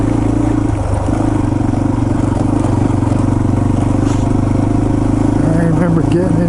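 A Yamaha TT-R230 dirt bike engine running on a forest trail, a steady droning thrum with slight shifts in pitch, heard beneath a voice.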